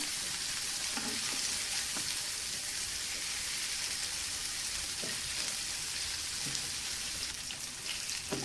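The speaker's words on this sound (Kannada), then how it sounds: "ಉಲ್ಟಾ ಹಾಕ್ಬಿಟ್ಟು ಪೀಸ್ನೆಲ್ಲ ಫ್ರೈ ಮಾಡ್ಕೊಳ್ತಾ ಇದ್ದೀನಿ" Pomfret fish pieces, flipped over, frying in a pan: a steady hissing sizzle with a few faint clicks and taps, fairly quiet and without talk.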